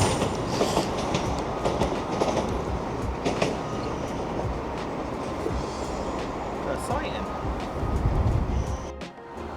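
A train passes Manors station in Newcastle, its steady rumble and clickety-clack of wheels rolling continuously close by, with a brief squeal of the wheels near the end.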